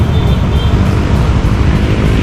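Road traffic on a bypass road heard from a moving motorbike, a constant loud rumble of engines and wind noise with a steady roar and no talking.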